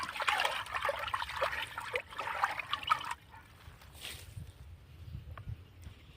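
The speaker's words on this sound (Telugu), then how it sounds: "అలాగే ఒకసారి ఈ మూకుడిని అయితే నీట్గా కడిగేస్తాం" Water trickles and splashes as a cooking pan (mukudu) is rinsed clean in a kitchen, steady and close for about three seconds, then fading to a quieter drip and low background noise.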